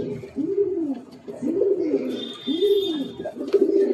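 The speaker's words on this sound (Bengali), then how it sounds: "পায়রা বহুত ছটপটে" Blood-line pigeon cooing close by in Kolkata, three rounded rolling coos in a steady rhythm with brief pauses between, a faint high whine in the background.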